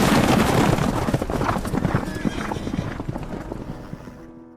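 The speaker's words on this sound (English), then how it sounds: "there were horses everywhere." Horses galloping on a farm as a sound effect, dense clip-clop of many hooves with whinnies and neighs mixed in, loud and close at first, then thinning and fading out.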